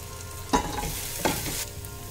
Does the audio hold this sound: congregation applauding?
no